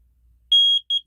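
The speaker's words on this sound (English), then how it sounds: "So you'll hear the beeping when it's close, and then it goes a solid beep when it's level." An electronic water level used to level a double or triple wide mobile home emits a clear high beep, one long tone followed by two short beeps, close and loud against near silence.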